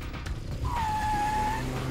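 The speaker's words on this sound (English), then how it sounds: "they hear the car start in the distance" A Ferrari engine fires up some way off, a rising whine settling into a steady tone over low rumbling, fairly loud and continuous with no talk.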